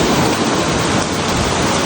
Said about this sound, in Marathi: सुंदर असं वातावरण, जोरदार पाऊस चालू आहे.